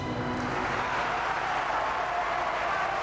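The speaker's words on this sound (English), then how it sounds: "Catalina Panor accepting the applause and the warm appreciation of the crowd here in Greece" A large crowd at a gymnastics championship in Greece applauds a completed routine, a steady dense wash of clapping that is moderately loud and even throughout, with no voices standing out.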